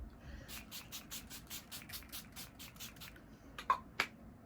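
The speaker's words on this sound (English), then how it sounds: "I like to put some setting spray on here" A makeup setting spray pump hisses in a quick, even series of short bursts close by, followed by two sharp clicks; no one speaks.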